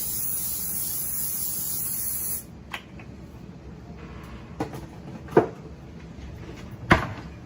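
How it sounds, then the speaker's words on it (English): A steady hiss of non-stick cooking spray onto a pan for about two seconds, then quiet with a few light knocks and clatters. "spray this pan here with some non-stick spray."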